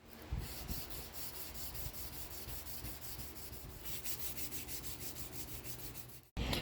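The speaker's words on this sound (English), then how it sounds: "time to hand sand them again and get them ready for their etching" Forged knife steel pieces are hand sanded with a steady, faint rubbing scrape that repeats in even strokes and ends abruptly, with no talk.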